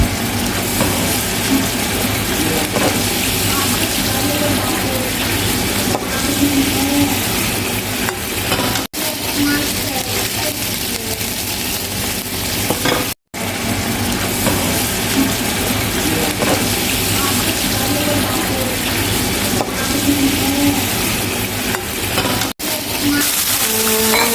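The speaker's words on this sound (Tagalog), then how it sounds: "Ipiprito ko nga lahat ng gulay at dahil low budget lang tayo, use oil lang ang gagamitin natin" Vegetables for menudo fry in plain oil in a pan, a loud, continuous sizzle with occasional stirring scrapes and a few brief clatters, with faint talk underneath.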